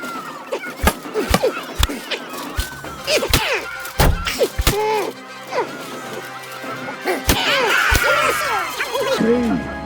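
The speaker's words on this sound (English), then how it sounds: "The duel with one-handed weapons can begin." Clashing one-handed weapons in a video game duel, Kingdom Come: Deliverance 2, ring out as a string of sharp metallic whacks and thuds at irregular intervals, with grunts and voices mixed in between the blows.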